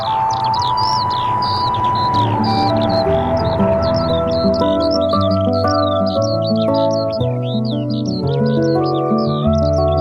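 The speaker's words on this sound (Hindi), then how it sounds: "पक्षियों की चहचहाहट" Birds chirp and tweet with rapid high calls through a morning forest, running continuously above a loud layer of music.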